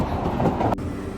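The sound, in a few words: miniature steam train at a train park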